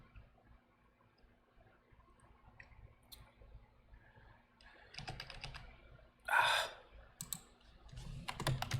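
Computer keyboard typing comes through as soft, sparse key clicks at first, then denser bursts of clacking later on, fairly close but quiet, with no talking.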